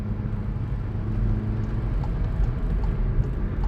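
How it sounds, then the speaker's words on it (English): A 2016 VW Golf GTI Clubsport's exhaust drones low and steady from inside the cabin while driving, a continuous rumble with no talking. "Oh man, that exhaust."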